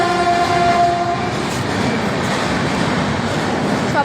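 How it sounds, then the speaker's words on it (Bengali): A train moves through a station in the morning, a loud steady rumble of wheels and carriages with a tonal horn-like note at the start fading into continuous rolling noise, close by. "সবাই দেখো সকালে দৃশ্য যখন ট্রেন যাচ্ছে স্টেশনে"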